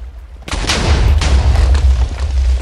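A cannon fires in the combat game Defenders: Age of Ares, a sudden loud boom followed by a rumbling blast and crackling battle noise that lingers, heard close with no talk.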